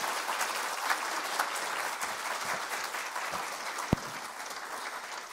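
Audience applause during a church service, steady dense clapping from a congregation filling the room, with one sharp knock standing out near the end.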